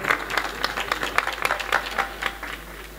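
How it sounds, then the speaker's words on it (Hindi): A mushaira crowd in Mugalsarai breaks into dense, steady clapping to welcome the poet Suhail Usmani, a lively wash of many hands sustained throughout. "जनाब सुहेल उस्मानी का एक जोरदार तालियों से इस्तकबाल फरमाइए"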